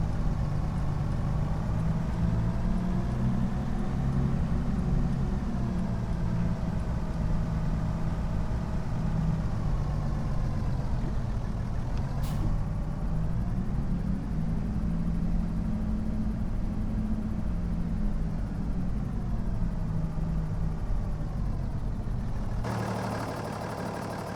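Tractor engine idling in a farming video game, a steady low mechanical drone running continuously at even loudness throughout.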